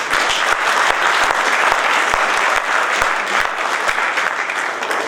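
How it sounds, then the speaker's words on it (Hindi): Loud, dense applause from an audience at a moot court event at a law college, sustained clapping of a large crowd for the moot court team throughout. "एक बार इनके लिए आप तालियां बजाएं।"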